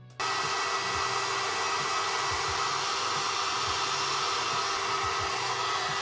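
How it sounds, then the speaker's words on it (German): A hair dryer switches on abruptly and blows loudly and continuously while hair is dried from both sides, a steady close-up roar with no talking. "Da ist es wichtig, dass man halt eben von beiden Seiten föhnt, dass man einen guten Schwung reinkriegt."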